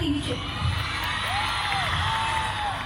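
Crowd noise from a school audience at a golden jubilee celebration, steady cheering and shouting across the whole stretch with a couple of rising whistle-like tones, clapping not clearly distinct.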